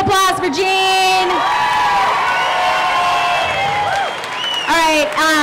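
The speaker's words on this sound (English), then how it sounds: "one more round of applause for Gene" A crowd at an indoor functional fitness duel cheers, whoops and shouts throughout, loud and continuous, with a few voices rising above the noise.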